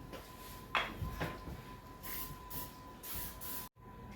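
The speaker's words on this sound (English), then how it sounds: "you have the cooking spray?" Short hissing bursts of cooking spray, several in a row, close by, with a brief clunk early on and a sudden cutoff near the end.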